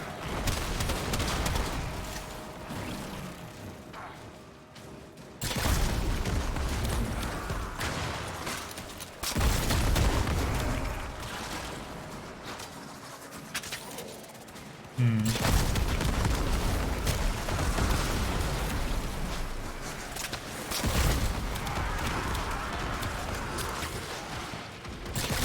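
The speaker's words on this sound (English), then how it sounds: "So it's like one explosion and then a bunch of bomblets?" Warframe combat erupts in repeated bursts, one big explosion followed by scattered bomblet pops, loud booming chunks of a few seconds each separated by brief quieter gaps, with no talk.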